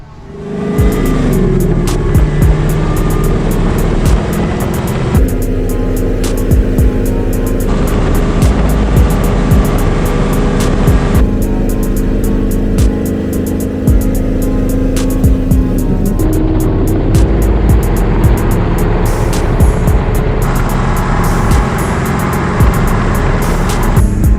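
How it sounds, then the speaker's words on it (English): A 5th-generation Camaro ZL1 with conversion side skirts drives on the road, its engine roaring loud and continuous with rising and shifting gear pulls and a brief tire squeal, no talk. "let's go ahead and take it out on the road to see how it looks like with the car driving on the road."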